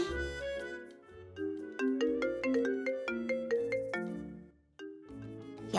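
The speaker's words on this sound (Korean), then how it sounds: "전화기?" A telephone rings with a bright, melodic ringtone, a run of quick tonal notes that climb and fall, then pauses briefly before ringing again, heard clearly and alone with no talk.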